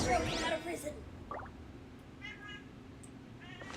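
A pet cat meows briefly and faintly in the background of a room, a few short high cries under a nearby voice and quiet background noise.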